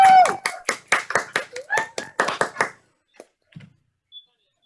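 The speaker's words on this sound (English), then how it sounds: "give them a nice big round of applause" Graduates unmute on a video call and applaud at a 2021 LPN nursing graduation ceremony for the Paramus campus: a few close hands clap rapidly for about three seconds, then stop abruptly, leaving a couple of faint stray taps.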